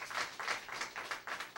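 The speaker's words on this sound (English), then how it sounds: "that's something that I think we should have a round of applause" Quiet, steady clapping from an audience at a university student venture competition launch, a brief run of rhythmic hand claps.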